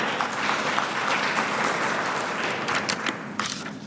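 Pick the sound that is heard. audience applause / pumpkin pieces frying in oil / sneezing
audience applause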